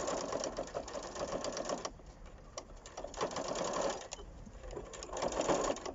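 Sewing machine stitching the pleats of a three-layer fabric face mask, a continuous close whirring run that pauses briefly and restarts twice.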